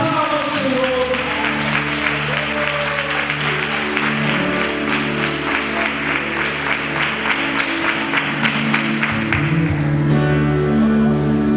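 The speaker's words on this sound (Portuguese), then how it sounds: "aplauda o Senhor" A church congregation claps together in a steady, even rhythm over sustained music, with the crowd noise staying full and constant before the music shifts near the end.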